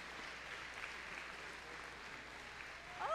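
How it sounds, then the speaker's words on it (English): An audience at a school event gives a round of applause to welcome elementary school students, a faint, steady patter of clapping from a distance. "let's give them a round of applause"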